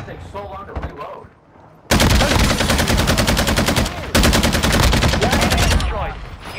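A super gun in a video game lets off dense, rapid automatic bursts in two long loud stretches separated by a brief break, preceded by quieter game sounds.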